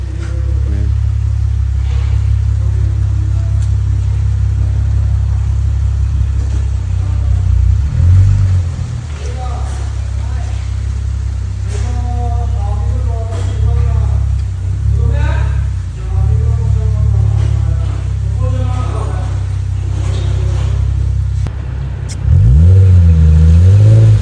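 A Lexus IS 250 with an HKS axleback exhaust idles with a deep throaty rumble, revving up in short bursts, with voices talking faintly over it.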